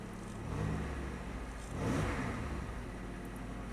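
A Pontiac Aztek engine runs steadily at close range, with two swells of revving over a rough low rumble and no talk.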